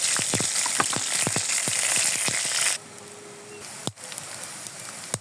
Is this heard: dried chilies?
yes